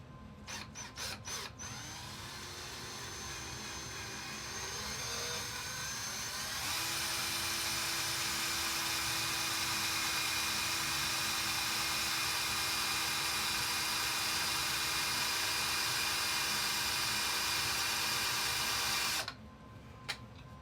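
An electric drill with a small bit starting a hole during a Jeep TJ Dana 44 axle bearing and seal job, a steady high whine rising in pitch and running continuously for about fifteen seconds before stopping.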